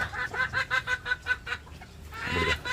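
Chickens in a homemade backyard coop cluck in a quick, rhythmic series of sharp calls close by, then let out a rougher, louder squawk near the end.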